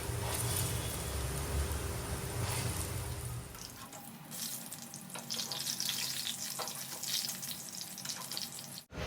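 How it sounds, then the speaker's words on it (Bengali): Bora fritters frying in oil in a Bengali home kitchen, a steady sizzle and bubbling that starts with low rumbling and water-like noise, then thins to a lighter crackling hiss. "এই জন্য বড়াগুলো আগেই ভেজে নিচ্ছি"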